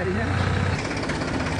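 A small tractor engine labours hard while hauling an overloaded trailer up a steep slope, a loud continuous rough drone that drops in pitch partway through as it strains.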